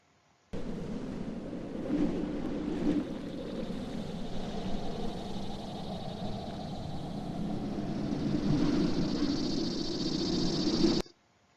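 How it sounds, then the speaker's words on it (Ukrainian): Steady rushing wind blowing without pause, a broad airy roar with a thin hiss on top that swells a little toward the end. "Так, це шум вітру."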